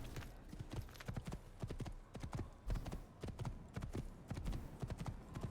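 Horse hooves clip-clop quickly and evenly as a horse is ridden in a video game, a continuous galloping rhythm of close, crisp hoofbeats with a few louder thuds.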